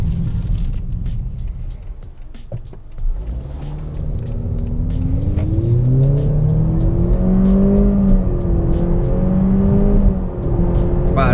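A 2018 Honda Accord Touring in sport mode revs up hard through a corner, its engine note rising steadily and loudly in pitch, then dipping and climbing again with a close, throaty drone.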